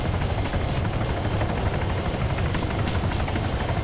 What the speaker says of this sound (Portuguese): Esse helicóptero não sobe